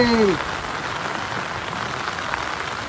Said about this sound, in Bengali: বৃষ্টির সাথে সাথে কাকা দমকা হাওয়া দিচ্ছে এখন